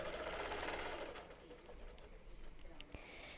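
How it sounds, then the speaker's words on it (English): A sewing machine doing ruler-work quilting point to point, with a soft steady mechanical whir at low level, fairly faint and continuous. "I'm literally just quilting point to point"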